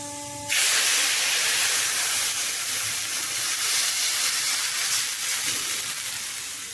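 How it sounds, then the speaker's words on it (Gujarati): A loud, sudden hiss bursts up as tempering for kadhi, with cumin and turmeric, hits the hot oil, then holds as a broad, steady sizzle that fades only slightly over several seconds, close by and with no talking. "એનો વઘારમાં જરાક આપણે હળદરે નાખશું એટલે કઢી છે ને એનો દેખાવ છે એ મસ્ત આવે ને વઘાર છે એ મસ્ત થાય"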